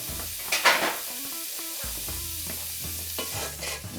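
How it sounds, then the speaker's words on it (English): Bacon browns in a hot pan with a dense, close crackling sizzle, broken by brief scraping and stirring sounds as the strips are moved around. "now I'm going to go ahead and brown up this bacon. I want to get this bacon nice and crispy"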